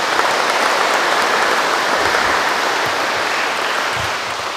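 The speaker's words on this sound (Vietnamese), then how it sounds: "Chúng ta cùng tạ ơn Chúa và chúc mừng nhau bằng một tràng pháo tay lật nhiệt." A church congregation gives a sustained round of applause at a Mass for the feast of Saint Joseph, a dense even wash of clapping held at steady loudness throughout, easing slightly near the end.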